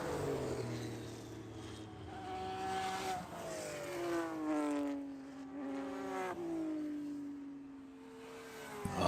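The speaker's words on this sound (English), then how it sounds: "you hear those cars at speed as they're working their way around" Porsche race cars roar past at speed at Buttonwillow Raceway, engines rising and falling in pitch as several pass one after another, steady and fairly loud with no talking.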